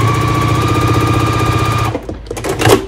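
A close, loud sewing machine hums steadily while joining quilt pieces in rows, then stops abruptly, followed by brief handling clatter.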